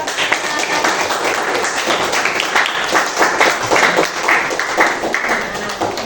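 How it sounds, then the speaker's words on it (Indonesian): A room of teachers and colleagues applauds a presenting group at the end of their school coaching presentation, a dense steady clapping that lasts the full stretch with some voices mixed in. "Tepuk tangan buat"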